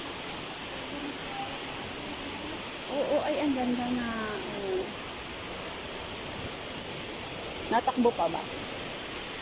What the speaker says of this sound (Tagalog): Hindi ulan. May waterfall dito.